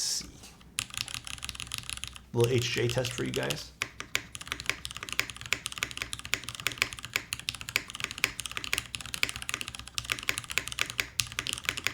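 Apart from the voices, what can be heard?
typing on Milan TKL mechanical keyboard with aluminium case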